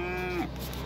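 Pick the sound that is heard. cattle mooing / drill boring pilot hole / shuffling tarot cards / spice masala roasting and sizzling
cattle mooing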